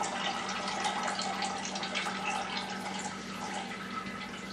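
Brewing grain bags lifted out of a pot of hot wort, with liquid draining back in as a continuous splashing trickle, steady and close, with no talking.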